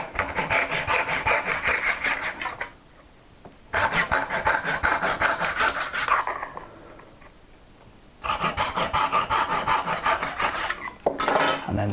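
A hand saw cuts dovetails in wood against a Barron magnetic dovetail guide, giving close, rhythmic rasping strokes in three long bursts with short pauses between them.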